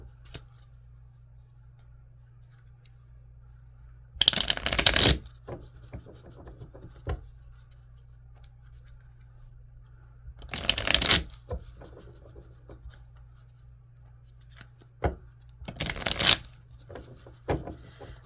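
Tarot cards from a Star Tarot deck being shuffled, heard as three short bursts of brisk riffling and rustling separated by quiet pauses and faint handling noises, with no voices.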